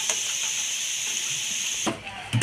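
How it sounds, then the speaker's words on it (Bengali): Potatoes fry in hot oil for a Bengali-style mixed vegetable dish, giving a steady bright hiss that breaks off near the end into a few brief knocks of handling. "আলুগুলি লাল লাল করে ভাজা হয়ে গেছে"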